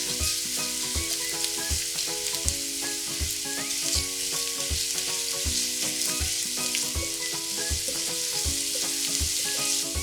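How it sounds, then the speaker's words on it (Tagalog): Onion and garlic sauté in hot oil for siomai rice rolls, a constant close sizzle running beneath a rhythmic, repeating tonal pattern, with no speech. "Magpainit na tayo ng mantika. Then, maggisa tayo ng sibuyas."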